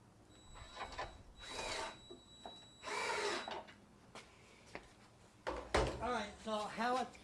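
A power drill drives quarter-inch by one-inch lag bolts into a wooden stand for a screen-printing press and flash dryer, giving a few short, loud whirring bursts between quieter stretches, with a voice talking nearby.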